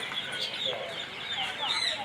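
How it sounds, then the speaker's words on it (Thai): Chickens cluck and chirp nearby in overlapping bursts, over a busy indoor background murmur in a pet market zone at Sanam Luang 2, Thailand. "มีไก่นะฮะ"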